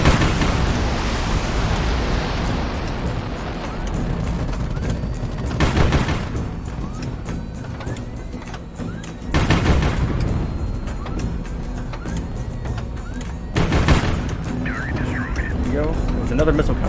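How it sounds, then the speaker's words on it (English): Missiles fire and flares launch in the naval strategy game HighFleet, with loud, continuous rumbling combat noise broken by three sharp bursts of blasts, while a voice talks over the action throughout. "We dodged a missile with flares"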